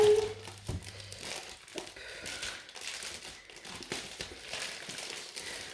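A diamond art canvas is unwrapped from its plastic packaging, giving close, steady crinkling and rustling with scattered crackles and tearing sounds throughout and no talking.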